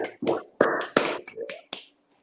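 An audience at a virtual poetry slam snaps fingers to applaud a poet, a quick scattered run of sharp, close snaps that fades out within about two seconds.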